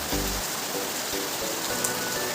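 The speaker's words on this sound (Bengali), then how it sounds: "দেখছো কি বৃষ্টি, এইরকম বৃষ্টিতে কীরকম করে যাবে স্কুল" Heavy rain after a night of nonstop downpour pours in a dense, even wash, steady and close, with no talk.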